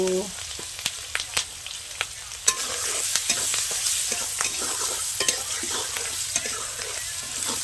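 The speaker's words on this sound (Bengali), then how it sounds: "পেঁয়াজ কুচি, কাঁচা লঙ্কা কুচি দিয়ে একটু ভেজে নেব" Chopped onion and green chili frying in hot oil, a steady close sizzle broken by sharp scrapes and taps of a spatula stirring in the pan.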